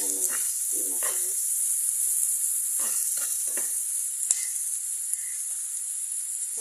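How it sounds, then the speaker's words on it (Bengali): Fish sizzles steadily in a hot pan, with a constant bright frying hiss and occasional crackles and stirring sounds. A voice talks faintly in short bursts. "মাছটা ভাজা হয়ে আসছে প্রায়"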